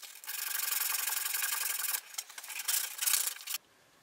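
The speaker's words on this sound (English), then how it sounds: "using sandpaper, I take a small amount of material off the inner of the lid" Sandpaper rubs back and forth inside a wooden box lid, a close, dry, hissing scrape in steady strokes for about two seconds, then several shorter uneven passes before stopping.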